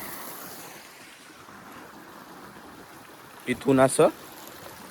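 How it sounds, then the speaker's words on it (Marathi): Water pumped by a well motor and a borewell flows steadily into raised sugarcane furrows at midday, a continuous rushing wash throughout, with a few spoken words near the end. "आणि पाणी चालू आहे."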